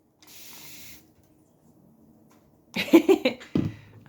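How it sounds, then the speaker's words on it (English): One short hissing burst from a fine-mist water spray bottle, close and fairly quiet, followed by a pause and then a few brief louder handling noises or vocal sounds. "The fine misting spray water bottle."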